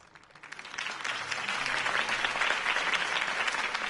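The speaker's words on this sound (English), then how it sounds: "could have heard that applause" Crowd applause erupts after a mayoral campaign speech in the video game Batman Telltale Season 1 Episode 1, a dense, steady wash of clapping that swells within the first half second and holds loud throughout.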